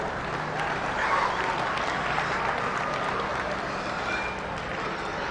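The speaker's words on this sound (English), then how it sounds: "Once again, let's give these exhibitors a round of applause." Sustained applause from a crowd at a youth fair livestock show, a dense, steady wash of clapping that holds at an even level throughout.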